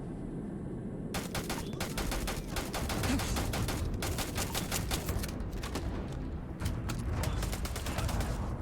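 Rapid automatic gunfire in the video game Starfield rattles nonstop in dense bursts, loud and close over a rumbling low background, with brief pauses between volleys.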